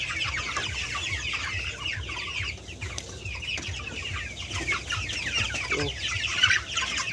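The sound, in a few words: chickens clucking in a farm shed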